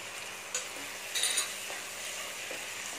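Chicken masala with pepper and herbs frying in a pan, a steady close sizzle with a few stirring scrapes and light clinks of a utensil, no voices.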